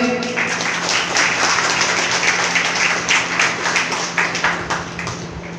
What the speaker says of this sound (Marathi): टाळ्या वाजवा जोराने सर्वांनी